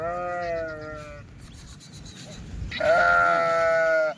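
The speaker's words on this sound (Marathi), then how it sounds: "आता ही वेलेली मेंढी वाटतं जी आरडा आरडाओरडा करते" Two loud, drawn-out bleats from a sheep among a livestock pen, each lasting over a second, separated by a short quiet gap with faint background noise.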